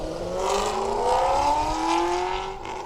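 A race car pulls away at the Sandhills Open Road Challenge, an open-road race event. Its engine note climbs steadily through the gears, loud and close at first, then thins slightly at the end, with no talk over it.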